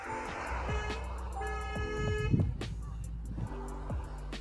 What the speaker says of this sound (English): Look at the traffic, man.